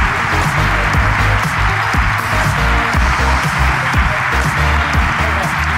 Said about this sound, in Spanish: ¡Aplauso para Eric!